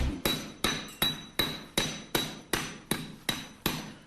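A scutch hammer strikes a wall to create a scutched finish, giving about ten sharp, ringing blows at a steady rhythm of roughly two per second, close and distinct, each one dying away quickly.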